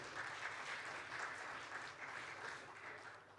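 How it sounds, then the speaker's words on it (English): Conference attendees at an aviation industry conclave give a round of applause for a speaker, a continuous, even wash of many hands clapping at a moderate distance, easing slightly toward the end. "Can I hear a huge round of applause for Mr."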